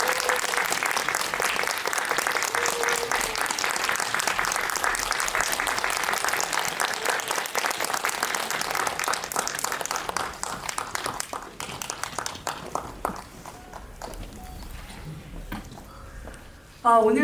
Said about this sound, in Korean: 큰 박수 받아주세요.